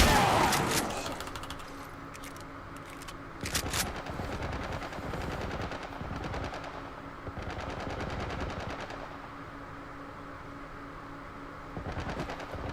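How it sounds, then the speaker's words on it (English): Enemies open fire in The Last of Us Remastered, with rapid automatic gunfire coming in separate bursts spread over several seconds. The first burst is loudest, and the later volleys sound more distant. "He's got a gun! They're shooting at us, Blake!"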